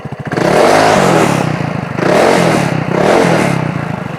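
The Scomadi Technica 200i Urban scooter's factory exhaust revs hard three times, each blip swelling to a loud rasping roar and falling back, close up.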